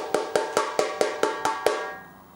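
A tightly tuned samba caixa snare drum gives eight evenly spaced, crisp strikes with a bright ring, close by and clear, and the last hit fades out.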